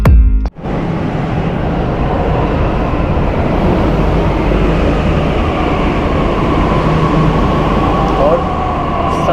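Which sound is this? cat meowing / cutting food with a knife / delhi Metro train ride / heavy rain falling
delhi Metro train ride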